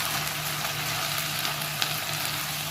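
A ground paste of ginger, garlic, onion and tomato fries in a pan with already-fried onions for a prawn curry, giving a steady, close sizzle with faint stirring and no talk.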